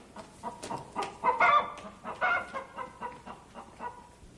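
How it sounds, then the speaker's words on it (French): A hen clucks in a series of short, uneven bursts, fairly close, with a louder squawking flurry partway through before it settles back into softer, rhythmic clucks. "La poule est sur la table."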